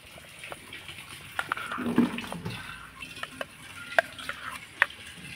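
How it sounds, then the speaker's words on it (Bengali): Quiet stirring of ripe palm pulp with a little salt in a hot wok: a spatula scrapes and taps now and then over a faint, low sizzle. "তালে কাঠটাকে একটু নাড়াচাড়া করে গরম করে নেব"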